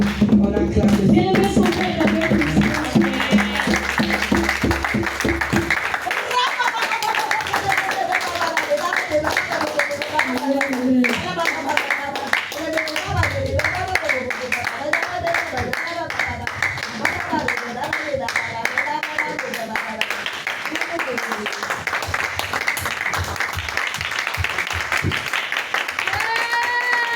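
A worship congregation clapping and applauding, a long stretch of dense, sustained handclaps from many people with voices and singing mixed in throughout.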